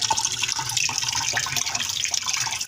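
Rice being rinsed in a kitchen: water runs and splashes steadily, with a continuous hissy flow and some small dripping sounds, fairly close and without talk.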